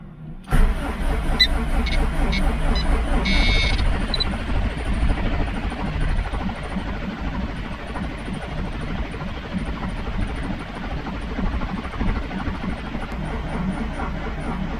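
A Subaru EJ25 engine is cranked to prime the oil pump, giving a continuous low churning whir that runs steadily and close for the whole stretch.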